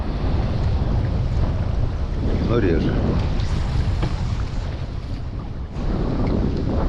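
Strong wind gusts across a river during a spinning-rod fishing trip on the Pechora, roaring steadily and buffeting the microphone, with a brief spoken phrase.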